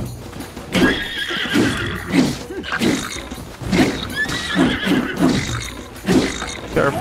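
A horse in Zelda: Tears of the Kingdom whinnies loudly and repeatedly over close clip-clopping hooves, with game sounds and some voices mixed in.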